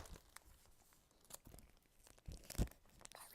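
Plastic packaging around a tablecloth torn open by hand, with scattered crinkles and rips building to a sharp, loud tear near the end, close by and otherwise quiet.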